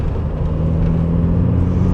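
A 1995 VW Transporter T4 camper van engine accelerates smoothly, a steady close rumble heard from inside the cab, gently rising with no rattles.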